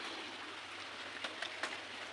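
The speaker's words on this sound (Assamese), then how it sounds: "পূৰা বৰষুণ" Heavy rain falls steadily outside a home, heard from an indoor drawing room as a faint, even hiss with a few sharper drop ticks near the end.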